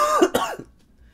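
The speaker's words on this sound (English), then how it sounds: "I'm so sorry for the coughing." A person coughs twice in quick succession, close and fairly loud, with a brief throat-clearing rasp, after which the sound fades to quiet.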